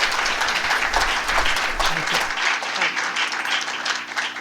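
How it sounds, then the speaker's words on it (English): A conference audience gives a loud round of applause, dense close clapping with a few louder individual claps standing out, sustained for several seconds. "One more round of applause."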